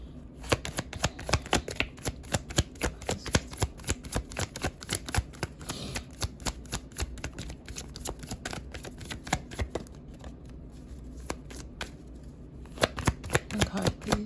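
Cards are shuffled repeatedly for a tarot-style reading: rapid, crisp riffling and slapping of a deck in close, steady bursts over fourteen seconds, with no talking.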